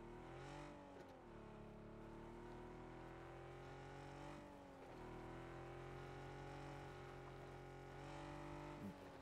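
A car engine in a multiplayer video game hums and revs in sustained tones that rise and fall, with no talk over it.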